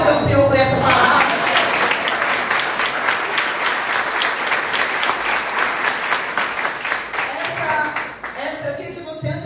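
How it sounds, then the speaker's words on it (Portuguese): A church congregation breaks into loud, sustained applause, dense clapping that fills the space and tapers near the end, with voices audible at the start and close. "Você pode aplaudir o Senhor por essa palavra?"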